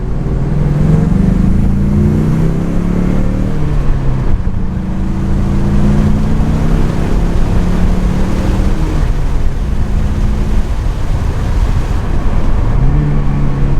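Four-cylinder turbocharged EcoBoost engine in a 2018 Ford Mustang revving hard while rolling from about 20 mph, a loud steady drone heard from inside the car whose pitch climbs, dips at gear changes, and rises again.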